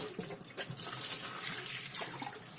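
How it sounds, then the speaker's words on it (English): Water starts flowing through a custom-built metal aquarium clean-and-fill hose system, a soft steady rushing and splashing after a brief sputtering start, fairly quiet and close. "Let's go ahead, start up the water."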